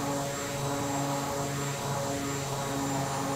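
The Embraer EMB-120 turboprop airliner in Flight Simulator X drones steadily, its propeller engines producing a loud, constant hum with a slowly beating, throbbing tone.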